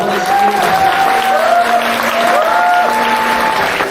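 Wedding guests applaud the bride and groom after their mutual bow at a Korean ceremony, a steady wash of clapping with faint tonal music threading underneath.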